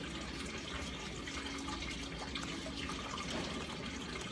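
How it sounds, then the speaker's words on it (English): Water fountain in a yard in Montreal, a soft steady splashing and trickling that runs faintly and continuously with no talking. "There's a water fountain in the background, which you may be able to hear."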